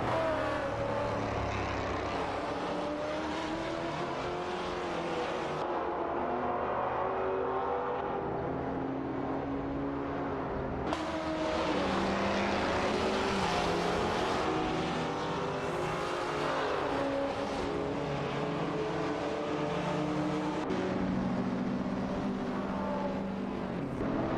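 Race car engines in a racing video game, a steady loud drone of engines holding and shifting pitch through the whole stretch, with no talk.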